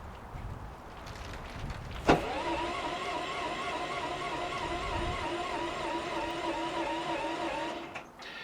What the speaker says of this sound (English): That's the sound of a generator trying to start using a battery.